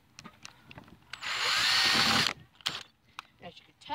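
Power drill driving a screw during lawn mower work, a single sustained whir of about a second, loud and close, with brief speech before and after.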